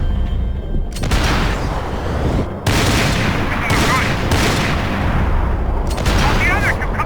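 Gunfire in the video game Max Payne 3, a loud, dense run of overlapping shots and bursts that continues almost without pause, with a voice speaking amid the barrage.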